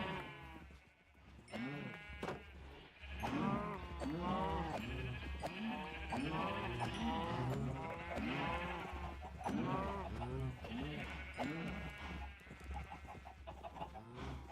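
Sheep bleat repeatedly in Minecraft, a cluster of overlapping animal cries mixed with clucking chickens, moderately loud and continuous over a steady background hum.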